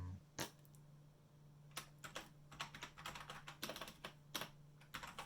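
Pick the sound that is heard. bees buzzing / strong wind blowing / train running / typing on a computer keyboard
typing on a computer keyboard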